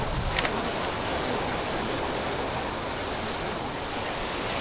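Ocean waves wash steadily in a continuous broad hiss of surf, fairly loud and unbroken, with a brief rush near the start.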